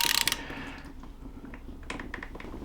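A 3/8-inch drive ratchet turns a crankshaft bolt during engine disassembly, giving a quick run of sharp clicks, then a few scattered ticks against quiet workshop background.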